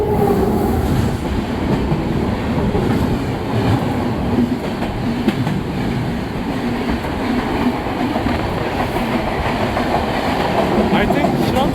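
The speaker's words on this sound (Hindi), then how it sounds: "कोहरे को चीरते हुए कोई तो ट्रेन आ रही है।" A train passes on the line beside a moving Duranto Express in fog. A loud, continuous roar of wheels and carriages with clickety-clack runs steadily throughout, up close.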